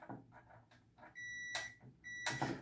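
A continuity tester probing a MOSFET on an LG plasma TV board gives two sustained electronic beeps close by, each about half a second long, separated by clicks and handling noise.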